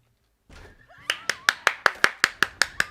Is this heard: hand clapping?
yes